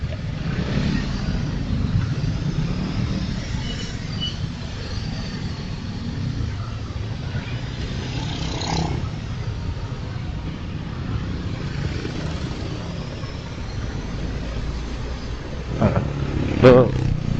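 A Yamaha Nmax automatic scooter rolls along with a low, steady engine drone beneath wind rush, with a brief louder clatter near the end.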